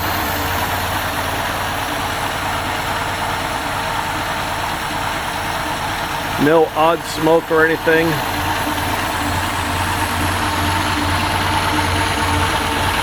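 A 1925 Model T Ford Special T Speedster engine idles with a steady low rumble throughout, close by, while someone speaks briefly over it midway.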